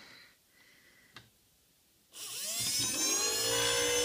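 A generator engine roars up at high RPM after a quiet start with a brief click, then holds a loud, steady, high-revving drone.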